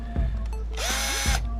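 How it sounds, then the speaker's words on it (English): A cordless power drill set to low torque whirs in a short burst tightening clutch cover bolts on a Honda XR400 dirt bike, spinning up and winding down, with a couple of clicks of handling before and after. "I just set my little drill here at 7 pounds,"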